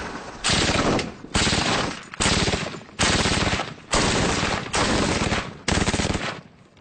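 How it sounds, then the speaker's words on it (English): An M249 SAW squad automatic weapon fires 5.56 rounds at a military training site in six loud, close bursts of rapid automatic fire, each a dense roll of shots with brief gaps between them. "This is the SAW, Squad Automatic Weapon."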